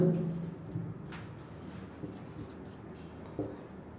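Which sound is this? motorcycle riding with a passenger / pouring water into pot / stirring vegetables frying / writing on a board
writing on a board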